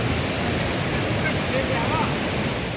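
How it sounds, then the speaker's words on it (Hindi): A mountain waterfall beside the pilgrimage route to Gangotri roars as a steady, dense wash of rushing water, close and continuous with no breaks. "रस्ते में झरने में नहाते इंजॉय करते"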